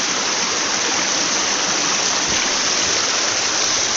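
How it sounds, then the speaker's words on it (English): Water rushes through a hole in a leaking earth dam, a loud, steady, close roar of flowing water with no voices. "the water's been flowing through here for a little while"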